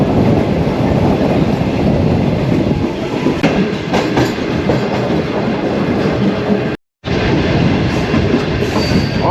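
The Shalimar Express passenger train rolls slowly over tracks under repair between Shahzadpur and Sarhari stations, giving a continuous close rumble with wheel clatter and a brief dropout near the end.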